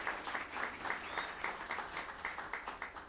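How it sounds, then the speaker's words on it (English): An audience claps at a ceremony marking the exterior restoration of the Hunter Fly Road houses, a steady, moderately close burst of applause without pause. "you can clap for that"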